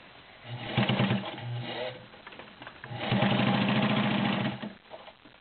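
A vintage heavy-duty Kenmore Model 33 sewing machine stitches through ten layers of cotton with a size 16 needle, running in two rapid mechanical bursts of whirring and thumping, close and loud, with a short pause between.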